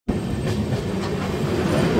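The 13115 Sealdah–Jalpaiguri Road Humsafar Express running near Ranaghat gives a loud, steady, close rumble with a rattling clickety-clack of wheels and wagons, unbroken for the whole stretch and with no voices.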